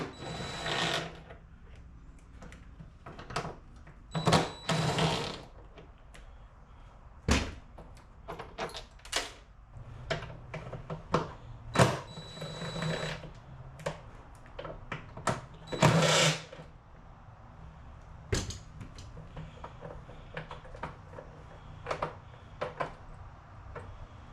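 A hand wrench works 10 millimeter bolts off a boat's fiberglass cowling mount, giving a series of sharp ratcheting clicks and metallic taps in irregular bursts, close and fairly quiet with pauses between them.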